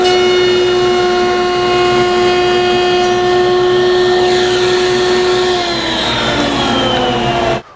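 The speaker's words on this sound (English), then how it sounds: "I need to make an 1/8 inch rabbet" Power tool cutting a 1/8 inch rabbet in wooden dovetail sides, a loud steady whining tone with strong harmonics that holds, shifts near the end and stops abruptly.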